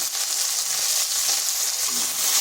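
Peeled taro (kochu) frying in hot oil with a pinch of turmeric and salt, a steady close hissing sizzle with no pause and no talking.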